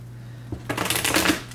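Tarot cards shuffled by hand in a brief riffling burst, close and fairly loud, after a moment of quiet.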